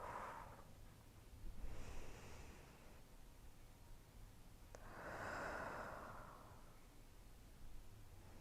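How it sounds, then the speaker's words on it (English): Slow, deep breaths in through the nose and out through the mouth during a beginner yoga flow, soft and faint, with a few long airy swells. "Breathing in through the nose"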